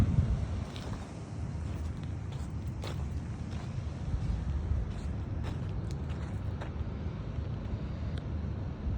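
A light breeze blows in Death Valley on a hot July day, rushing steadily across a microphone as a constant low buffeting roar, with a few faint scuffs and taps over it.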